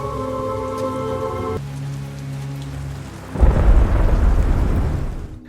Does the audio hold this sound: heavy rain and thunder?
yes